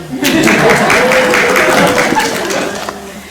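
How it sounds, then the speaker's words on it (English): An audience claps at a sheep shearing show on a farm near Queenstown, a loud burst of steady applause lasting a few seconds, with a voice speaking briefly over it. "You guys can clap now."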